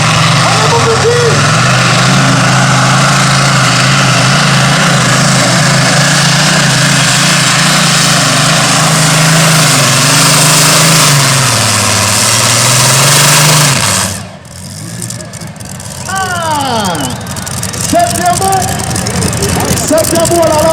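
A tractor engine roars loud and sustained at a tractor pulling competition in Bernay, pitch bending as the load shifts, then drops briefly before revving back up; an announcer's voice runs over it.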